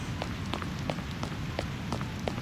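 Steady torrential rain falls over a 1920s city in the video game Reverse: 1999, a dense continuous hiss broken by scattered drip and splash impacts.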